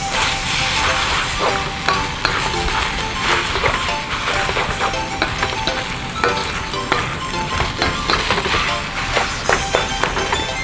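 Bean shoots and spring onion stir-fry loudly in a hot wok for Thai noodles, with a steady sizzle and regular clinks and scrapes of a utensil tossing the food.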